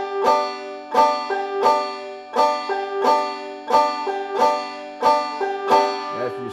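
A five-string banjo is picked with fingernails and the skin of the thumb, about nine bright twangy plucks in a slow, even rhythm, close and clear with ringing overtones.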